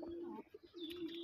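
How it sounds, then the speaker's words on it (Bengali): Domestic pigeons, including desi breeds, cooing inside a loft, with a steady low coo running through most of the moment and a brief break in the middle, alongside faint higher chirps; no talking. "দেখুন আমার লফটের রেস্টে থাকা কবুতরগুলি"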